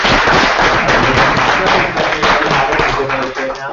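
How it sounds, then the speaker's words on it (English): Audience at a machine learning summer school lecture applauding a third-place winner, a dense, loud wash of clapping filling the room throughout with some voices mixed in. "Round of applause."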